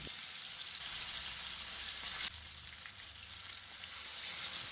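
Pomfret fish fries in oil for a fish biryani, making a quiet, continuous sizzling hiss that shifts slightly partway through as it settles in the pan.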